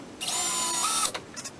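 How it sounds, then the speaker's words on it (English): A power drill whines at high pitch for about a second drilling a mounting hole in wood, then spins down and stops, followed by a few faint clicks. "I'll drill that out now"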